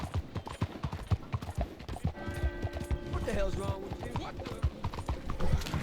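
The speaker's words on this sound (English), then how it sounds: "Vámonos en el caballo. No sé qué hace acá mi caballo, pero acá está mi caballo." Hoof clip-clops from a horse in a western video game beat out a fast, steady rhythm, with someone talking over them and a soft musical tone partway through.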